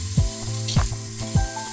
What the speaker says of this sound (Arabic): الطماطم اتسبجت واللحمه يعني ابتدت تخش في السوا